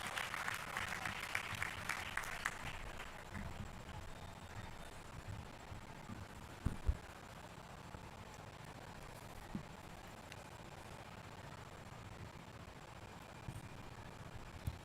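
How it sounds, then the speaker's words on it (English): Faint, distant applause from an audience at a tourism session in Odisha ripples at the start, then fades to a low background hush with a few scattered claps. "Please give a thundering round of applause in order to present the keynote address"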